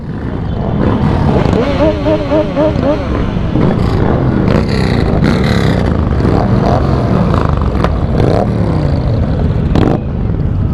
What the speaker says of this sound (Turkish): Ben de gaz vereyim bari.